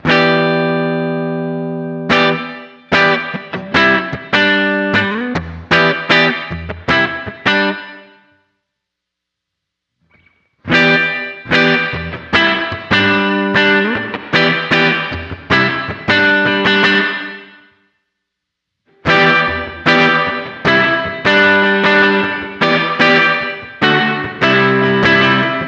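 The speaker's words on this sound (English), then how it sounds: "The reverb side gives you the sound of a plate reverb." Electric guitar through a Sonicake Levitate plate reverb pedal playing chords in three bursts separated by silent gaps, each with a lush, lingering reverb tail and slight distortion.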